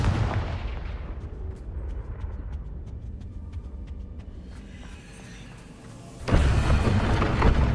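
A Confringo explosion spell goes off in Hogwarts Legacy, a deep rumbling blast with heavy low boom and crackling tail, loud and close, fading before another burst of rushing noise swells in.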